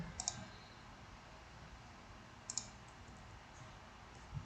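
A computer mouse on a web system gives a few faint, sharp clicks in two small bursts, separated by quiet room tone.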